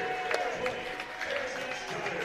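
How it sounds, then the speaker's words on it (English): A small crowd at an Oklahoma Baptist men's college basketball game claps and cheers a player's 1,000th point with scattered, moderate applause. The applause is heard under an announcer's commentary. "Harrison Stoddard getting a standing ovation from what fans there are"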